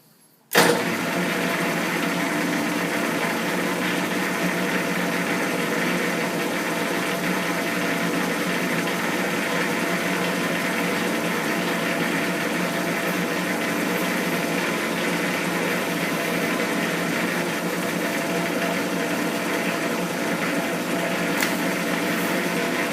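A metal lathe in slow gear taking a scratch pass on a drive shaft: the machine starts with a thump, then runs as a steady even hum and whir, loud and unbroken for about twenty seconds with no talking.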